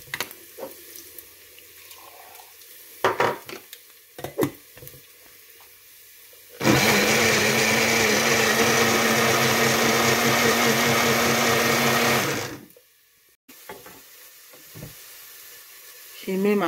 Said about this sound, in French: je vais mixer la tomate